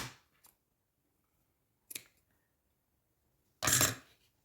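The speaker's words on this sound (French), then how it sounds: "Alors, je vais couper ici." Scissors snipping paper for a scrapbook mini album, three short separate cuts, the last one the loudest and closest, with quiet pauses between them.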